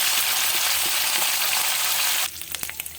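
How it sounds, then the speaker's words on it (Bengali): Spices and asafoetida temper in hot white oil in a kadai for a potato and capsicum fry, giving a loud, steady close-up sizzle that suddenly drops to a quieter hiss broken by sharp pops and crackles. "আমি ফোড়নটা দিয়ে দিচ্ছি। হিংও দিয়ে দিলাম।"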